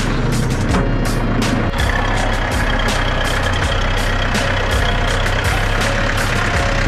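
A tractor tows a fishing boat across a sandy tidal beach for launch, its engine droning steadily and loudly nearby with a low, rumbling idle and faint rattling clicks.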